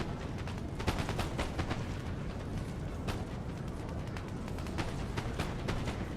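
Crackling musket volleys in a Napoleon Total War online battle, rapid overlapping shots popping throughout over a dense battlefield rumble, steady and fairly loud.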